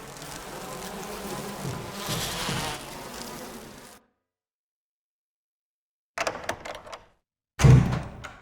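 Giant bees in Resident Evil buzz in a loud, close, continuous drone for several seconds, then cut to silence before two short bursts of buzzing and thuds return.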